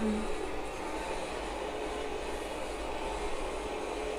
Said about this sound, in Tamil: ட்ரெயின்ல போறேன்.